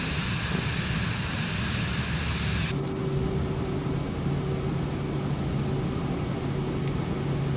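Airplane engine drone in Microsoft Flight Simulator 2024: a loud continuous broadband roar with a steady hum, the high hiss dropping off partway through while the engine noise carries on alone.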